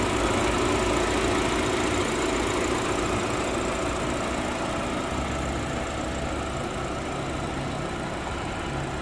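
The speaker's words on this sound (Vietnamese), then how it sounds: "Tiếng máy nghe vẫn là còn rất là ngọt ngào." BMW car engine idles smoothly and steadily, a continuous close rumble with an even low throb that holds unchanged throughout, no voices.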